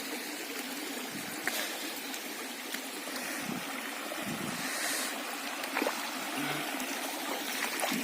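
Kuladera waterfall in a forest near Naktideul, a steady broadband rush of flowing, splashing water heard fairly faint and continuous throughout, with no talking.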